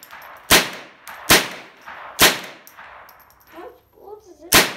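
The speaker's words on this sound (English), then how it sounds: "I'm gonna go super fast. Probably almost at the end of the magazine." Gunshots from a firearm being emptied through its magazine: four sharp, loud reports spaced irregularly about a second apart, each with a short echoing decay, and faint shuffling and a brief murmur between shots.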